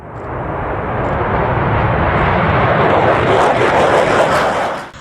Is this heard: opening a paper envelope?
no